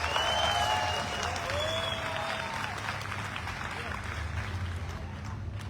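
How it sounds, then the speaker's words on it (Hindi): An audience applauds to welcome first-time attendees at a company gathering, dense sustained clapping from a crowd with some voices and whistles mixed in, gradually easing toward the end. "हमारे AWPL के फाइटर जो पहली बार आए उनके लिए एक बार जोरदार ताली बजाकर उनका स्वागत करें।"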